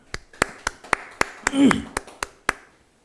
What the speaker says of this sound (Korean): 우리 감사와 축복의 박수 하겠습니다